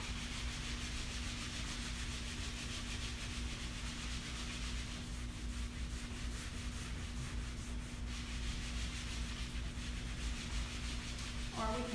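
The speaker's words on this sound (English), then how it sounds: "If you want to buff it up and give it more of a sheen, then you can buff it with a cloth." Cloth buffing wax on a wooden surface, a steady close rubbing swish repeating in continuous strokes, moderately quiet against a constant low hum in the background.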